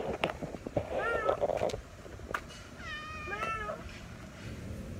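A cat meows several times in close, clear, rising and falling calls, following some brief rustling and knocking at the start. There is no talk.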